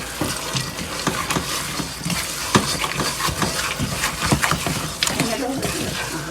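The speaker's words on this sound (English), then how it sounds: "stir in our 2 cups of chopped cashews" Chopped cashews being stirred into hot candy mixture in a pot, a continuous scraping, clattering stir with occasional sharper knocks, heard close with talk over it.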